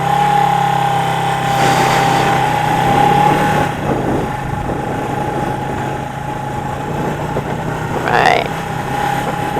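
A motorcycle engine idles and putters up close while the rider creeps in to park. Someone talks over the steady engine drone, and a brief sharp squeal comes near the end.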